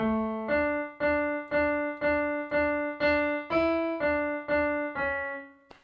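Keyboard plays the opening two bars of the Ganesh Aarti "Ek Dantay Vakra-tundaya", a steady run of about eleven evenly spaced, clear sustained notes with a low repeated accompaniment tone, close and solo with no talking.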